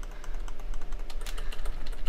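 Rapid computer keyboard typing, a dense run of close, loud key clicks with no talk, played during a game competition.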